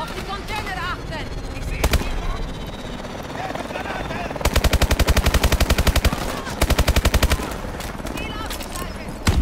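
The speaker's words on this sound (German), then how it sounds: "die Granate" Gunfire and a grenade blast in Call of Duty: Advanced Warfare, with loud bursts of rapid automatic fire, single sharp shots and a heavy thump near the start, under German game commentary and battle noise.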